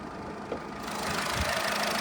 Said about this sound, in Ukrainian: Двигунчик працює як швейцарський годинник, тихесенько, м'якесенько, без посторонніх шумів